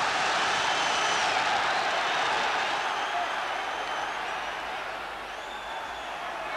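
A boxing arena crowd roars continuously in approval as a fighter lands punches, a dense, loud wall of cheering that eases slightly toward the end, with a commentator's voice faint beneath it.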